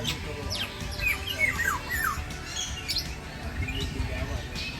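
Philippine kilyawan bird calling at a mini zoo, several quick whistled chirps and squawky notes in short bursts, nearby, over a murmur of background voices.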